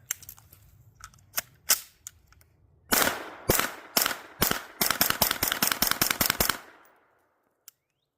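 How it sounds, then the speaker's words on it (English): An APC gun fires a few spaced, sharp cracks, then a rapid string of shots in quick succession. The burst cuts to silence, followed by one last faint click. "Fred, without further ado, show them what the APC can do."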